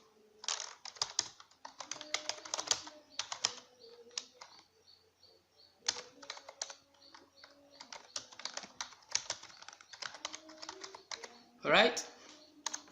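Computer keyboard typing in quick irregular bursts of close, crisp clicks, separated by short pauses, with a brief faint chirp-like sound near the end.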